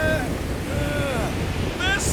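Strong wind gusts howl across a windswept game world, a broad continuous roar with shifting whistling tones, while a character speaks over it.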